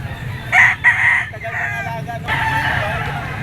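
A stag rooster crows at a busy poultry auction market in Lipa, its bright strained call rising over a steady crowd murmur and low background noise, with other birds faintly clucking around it.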